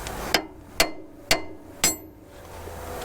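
Four sharp metallic hammer strikes on the axle of a Dodge M37 Power Wagon ring out at an even pace, close and loud, each with a short ringing decay, then quiet.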